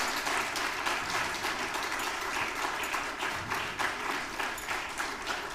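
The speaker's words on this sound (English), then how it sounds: "let's give him a huge round of applause" Sustained audience applause at an Urbane Connect 2025 event with Dr Shashi Tharoor, dense steady clapping from a large crowd holding at an even level throughout.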